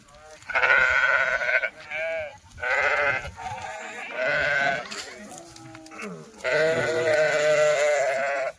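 Kathiawari sheep or goats bleat loudly and close by in repeated long, wavering calls, four or five in a row with brief gaps, over a background of shuffling animals.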